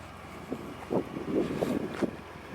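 A Ford Fusion Sport idles quietly with a low, steady grumble, heard close by under light wind noise, with a few soft bumps along the way.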